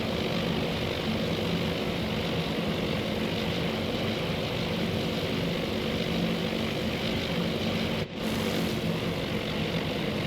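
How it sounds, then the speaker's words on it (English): Propeller dive bomber aircraft forming up in the Task Force Admiral naval game at the Battle of Midway, a dense steady droning engine roar, loud and continuous with a brief dip near the end. "dive bombers really nicely forming up now"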